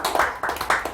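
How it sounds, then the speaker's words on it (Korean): A small audience at a lecture claps in a few loose bursts, close and fairly loud, fading out near the end. "나는 그렇게 될 수 있습니다라고 믿는 분들만 박수 한번 보내주시죠."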